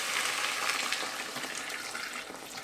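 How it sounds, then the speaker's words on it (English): Hot water poured from a kettle into a pot while making oxtail soup, a steady close splashing stream running unbroken throughout. "this is some hot water from the kettle I'm using"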